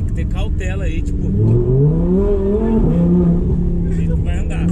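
An Audi R8 sports car engine revs up, its pitch climbing and holding in a loud, close drone, with people talking over it.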